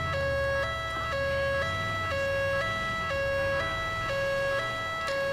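A London ambulance siren in the GTA video game plays a steady two-tone hi-lo wail, switching pitch about twice a second over a low engine rumble. It is loud and continuous throughout.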